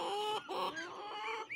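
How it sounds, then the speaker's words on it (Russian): Farmyard chickens give a quick run of close, clear clucks and squawks with rising and falling calls, and nothing else is heard. "Вон курица, смотрите."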